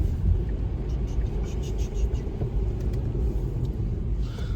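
A Tesla Model 3 75D electric car pulls away on a road, giving a steady low rumble of tyres and cabin noise that stays constant throughout with no voices.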